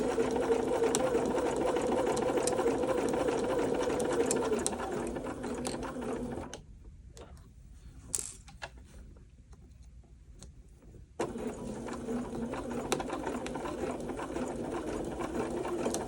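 A sewing machine stitches knit fabric in a fast, steady mechanical whir. It pauses for several seconds, with a faint click or two in the quiet, then resumes stitching at the same even pace, up close.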